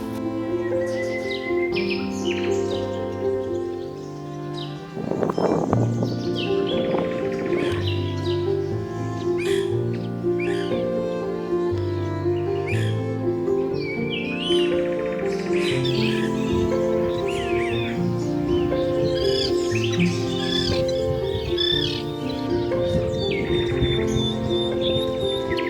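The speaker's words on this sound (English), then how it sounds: "Lots of birds there." Dense chorus of wild birds, including cranes, calling continuously from nearby flocks on China's east coast, with overlapping chirps, squawks and honking cries that stay loud throughout, swelling after a brief lull.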